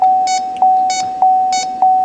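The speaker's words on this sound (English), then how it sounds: "The beeping is just a normal beep." A sustained electronic tone from a refrigerant leak detector, checking an R1234yf car air-conditioning system, is broken by four regular, sharp beeps about half a second apart, loud and close, with no talking.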